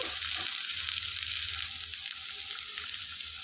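Capsicum and potato pieces frying in a pan for a Hyderabadi veg dum biryani, a steady, even hiss of sizzling oil throughout, fairly soft and without speech.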